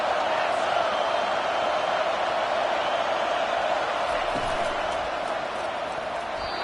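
Stadium crowd at a football game, a loud, continuous roar of many voices holding steady throughout with no breaks.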